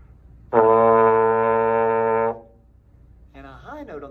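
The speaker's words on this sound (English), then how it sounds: "A low note on the trombone sounds like this." A single low trombone note held for nearly two seconds, full and buzzy with strong overtones, followed by silence and then a voice starting to speak.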